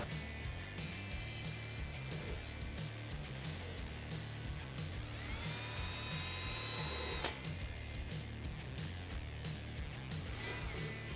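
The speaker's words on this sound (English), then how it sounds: "Then we can go back with our drill bit." A power drill bores a hole in a Jeep Wrangler JK body for fender flare rivet nuts, a steady close whine with a higher-pitched stretch of cutting midway before the bit stops.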